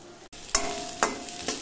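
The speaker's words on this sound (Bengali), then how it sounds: "এখন এই পাশে আলু ভাজছি।" Potatoes frying in a pan, a soft sizzle punctuated by three sharp stirring scrapes at regular intervals, close and fairly quiet.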